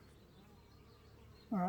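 Honey bees buzz steadily at low level around an open, queenless hive during a queen introduction to a split, with a sudden louder close buzz near the end.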